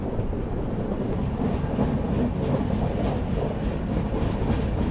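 A sleeper class express train rolls along the line from Indore toward Ratlam and Pune, a steady rumbling roar of wheels and carriage heard from inside the coach, constant and fairly loud throughout.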